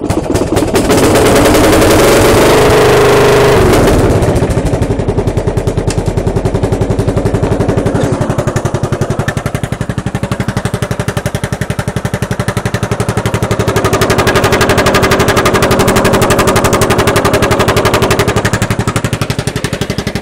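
A loud, rapidly pulsing tractor engine with a resonator chamber on its exhaust runs close by, popping in a continuous chattering rhythm for a long stretch.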